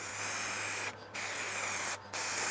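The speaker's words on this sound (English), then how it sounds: "for the second coat, again, start your spray off somewhere away from the light" Steady hissing aerosol spray coating a car headlight, close by, broken by two brief pauses before resuming in long continuous passes.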